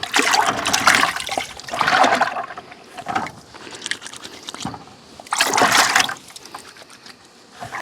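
Water from a 5-gallon bucket rinses sticky beekeeping equipment, splashing and trickling in several loud surges with quieter dripping between them.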